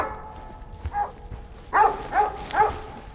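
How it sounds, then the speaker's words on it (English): Dog barking in a horror video game, a few short yips and barks in quick succession over a quiet, dark ambient background, with louder barks toward the end. "I just fucking bark."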